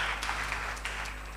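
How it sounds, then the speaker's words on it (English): Audience applause at an economics seminar, a steady wash of many hands clapping at moderate distance, fairly soft and continuous with no voices over it. "Please give a round of applause to Mr. Ikumo Isono."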